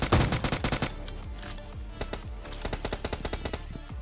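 Automatic gunfire lays down cover fire in PUBG Mobile Lite, rapid bursts of shots at first, then a spaced series of single reports with echoing tails.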